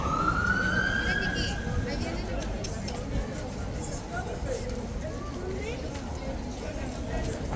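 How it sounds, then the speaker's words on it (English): Police sirens wail on Whitehall in London, rising at the start and then fading into the distance under steady street noise and people talking nearby. "You can hear the sirens as well"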